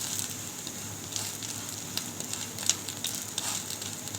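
Aloo paratha frying in oil on a pan, a steady close sizzle with soft crackles and a few small pops and flat turns, no voices.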